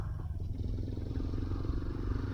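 A 2024 Yezdi Adventure motorcycle rides along narrow roads, its engine a quiet, steady low drone with faint rattling and scraping, held at an even distance for a couple of seconds.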